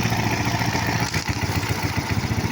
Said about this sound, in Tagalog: Ingay, ingay yung makina. Maingay yung makina.